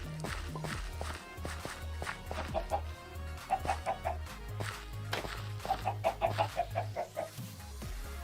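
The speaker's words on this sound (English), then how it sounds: "Come on up, Mr. Chicken." Minecraft chickens cluck in short repeated bursts over steady looping background music and game footsteps, fairly clear and busy throughout.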